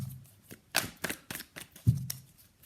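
Tarot cards shuffled and handled during a reading, giving several quick papery riffles and soft slaps spread irregularly across a couple of seconds, close and fairly quiet, with no talking.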